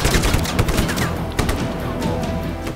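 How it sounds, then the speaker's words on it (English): Gunfire and explosive blasts from a grenade launcher rage during a Just Cause 3 firefight, a dense, continuous barrage of bursts and booms with no pauses. "What is it, a grenade launcher?"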